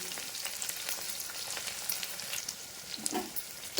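Onion, green chilli and garlic sizzle steadily in hot oil in a pan, a bright continuous crackle with occasional louder pops and spatters, close and alone.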